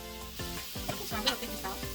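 Shrimp frying in a pan for fried rice, a quiet close sizzle broken by several spatula stirs and scrapes over two seconds.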